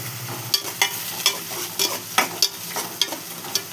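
Chicken fries in hot oil toward golden, a dense close sizzle broken by regular sharp scrapes and clacks of a spatula stirring the pan, with no voices.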